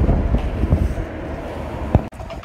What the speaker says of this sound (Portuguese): Tá muito vento, gente.